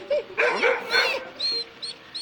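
A game dog lets out a few close, loud barks followed by high whimpers and yips in short bursts.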